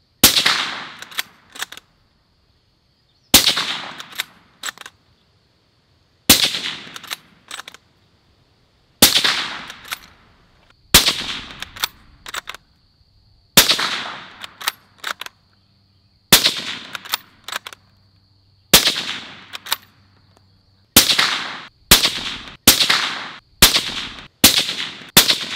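Supersonic 5.56 rifle gunshots through a JK Armament JK155 suppressor on an IWI Tavor X95, sharp loud cracks fired in repeated strings with pauses between, ending in faster rapid fire outdoors.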